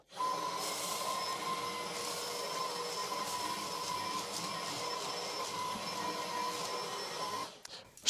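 A ROIDMI X30 Pro robot vacuum cleaner runs with a steady, moderately loud whir and a fixed motor whine, holding level for several seconds before cutting off near the end.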